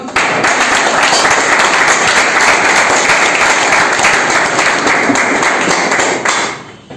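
Loud, sustained applause from a crowd clapping steadily for several seconds to welcome a selected SSC GD candidate, then fading out at the end.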